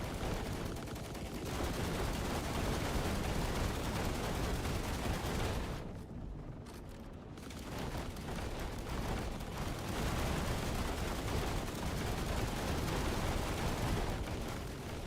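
Sustained heavy gunfire from companion bots in The Last Caretaker, a dense, continuous roar of rapid shots with a brief lull partway through before resuming at full intensity.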